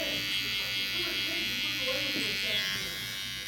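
An electric hair trimmer, held upside down to cut a fade line, gives a steady, close buzz that runs unbroken for the whole stretch.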